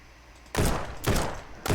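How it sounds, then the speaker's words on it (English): Bursts of gunfire in Ancient Warfare 3 coming through a tree, three loud, close, noisy volleys separated by short pauses. "Oh, I'm getting shot through a tree."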